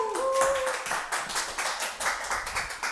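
An audience cheers and claps for the Ping Pong Predictor at a live comedy event, steady dense applause with brief whistle-like tones early on, fairly close and sustained.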